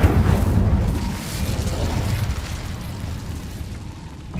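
Incendio fire spell cast in Hogwarts Legacy, a loud whooshing burst with a deep rumbling boom that slowly decays into a fiery roar.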